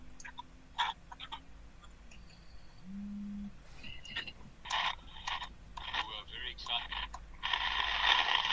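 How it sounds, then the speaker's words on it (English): An analog radio crackles and hisses while tuning across the AM band, with bursts of static, short tones and a brief steady whine that grow denser and louder toward the end, amid faint background noise. "On the analog radio, you hear the static a lot more."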